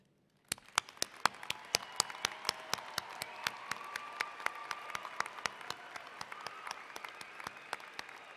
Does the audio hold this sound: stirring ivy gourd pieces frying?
no